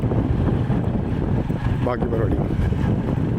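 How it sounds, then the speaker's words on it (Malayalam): Strong dusty wind rushes and buffets against the microphone in a steady roar, loud and close, with a brief voice heard under the gusts. "പക്ഷെ നല്ല കാറ്റുണ്ട് കേട്ടോ, പൊടിക്കാറ്റുണ്ട്."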